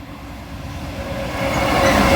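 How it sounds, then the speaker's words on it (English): A Class 66 diesel freight train passing at Sykes Lane, a loud, steady rumble of engine and wagons that swells gradually as it draws nearer, with no voices. "Train."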